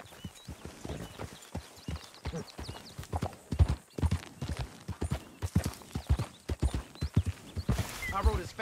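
A horse gallops in Red Dead Redemption 2, its hooves beating a steady, rhythmic clip-clop that is close and clear throughout, with a brief breathy snort or whinny near the end.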